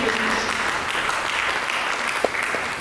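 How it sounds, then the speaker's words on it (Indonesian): A church congregation at an Indonesian worship service claps together in dense, steady applause that fills the whole stretch without a break. "Mari kita berikan tepuk tangan yang meriah bagi Yesus."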